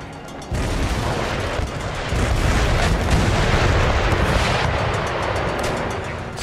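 Naval cannons fire in Empire: Total War, a sustained rumbling broadside of heavy booms blending into a continuous roar of artillery, loud and close.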